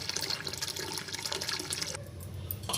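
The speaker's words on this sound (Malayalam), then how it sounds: "അതിനായിട്ട് നമ്മൾക്ക് കുറച്ച് വെള്ളം എടുക്കാം." Water pours from a tap or vessel into a pot in a home kitchen for boiling corn, a soft steady splashing stream that changes tone partway through, heard alone and fairly quiet.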